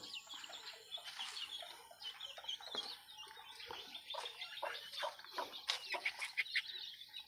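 A brood of young white chickens clucks and chirps softly and continuously nearby, with scattered rustling and wing movement.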